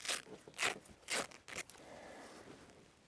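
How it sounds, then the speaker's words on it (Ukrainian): Opening the ballistic package of a concealed-carry body armor vest: three or four sharp crinkly tearing bursts of plastic wrapping, close up, then a softer steady rustle with no talking. "Відкриваємо сам пакет."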